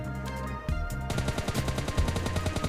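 Automatic gunfire from a PUBG Lite match sprays an enemy in rapid, loud bursts, a dense rattle of shots running almost the whole way through after a brief quieter lead-in.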